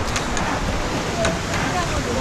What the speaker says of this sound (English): Wow, look at the waves. You can surf this, look at the waves.